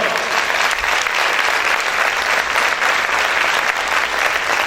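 A church congregation applauds loudly and steadily for the Lord, dense crowd clapping filling the space without pause and with no distinct voices.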